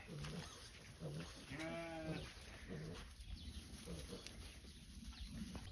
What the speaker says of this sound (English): I've let Gingerbread out to roam with the sheep to just start the weaning process